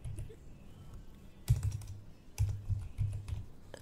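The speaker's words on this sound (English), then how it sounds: "we need to just go to search bar and type your device manager." Keyboard keys being typed on while entering a search into the Windows 11 search bar, with short bursts of clicking taps separated by brief pauses, close and fairly quiet.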